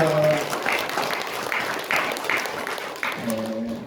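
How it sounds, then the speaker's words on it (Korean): A church congregation claps together at an Easter service, a steady burst of hand clapping that fades out near the end as a voice begins. "박수하겠습니다"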